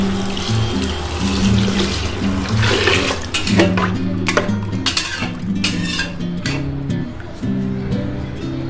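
Water pours from a tap into a cooking pot while spicy matki khichdi is being prepared, a steady close splashing rush with a few metallic clinks of the pot.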